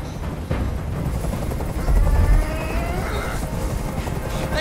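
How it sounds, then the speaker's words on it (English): A helicopter hovers in the video game Detroit: Become Human, a steady low rotor thrum that fills the scene, with a brief louder swell partway through and no clear talk. "I can't stand that noise anymore. Tell that helicopter to get out of here."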